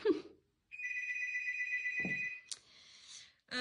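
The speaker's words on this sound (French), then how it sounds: "Ah, excusez-moi, le téléphone sonne, bien évidemment." A telephone rings indoors with a steady electronic tone lasting about two seconds, followed by a brighter chirping ring; a brief voice is heard just before it starts.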